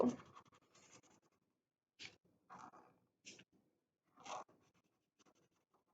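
A marker scratches on paper in short, separate close strokes as eyes are drawn and coloured in for a children's craft, with quiet pauses between strokes.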